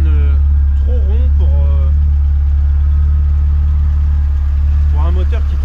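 A 1987 Volkswagen Scirocco II GTX 16V four-cylinder idles with a deep, heavy, constant drone that sounds slightly uneven, while someone talks over it at times.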